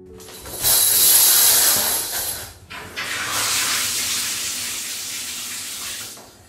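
Water runs steadily into a bath, a loud close hissing gush that breaks off briefly midway, then flows on before tapering away, staged as a radio drama effect.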